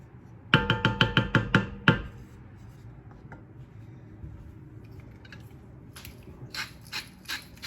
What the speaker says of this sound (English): I'm doing about 5 twists of the salt.